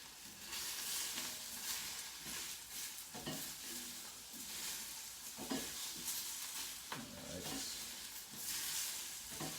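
Mushrooms hit a hot pan of tofu stir-fry, setting off a continuous sizzle broken by repeated scraping and stirring strokes, close and moderately loud.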